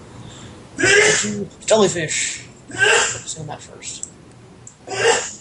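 A single sharp sneeze bursts out among people talking, followed by more conversation.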